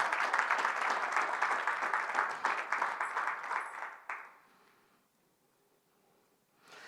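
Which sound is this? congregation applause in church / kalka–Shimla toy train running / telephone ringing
congregation applause in church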